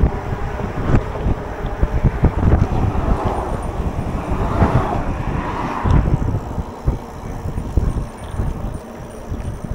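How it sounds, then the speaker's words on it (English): Strong wind roaring and buffeting continuously, with gusty rumbling swells throughout and no other clear sounds. "it is crazy windy out here"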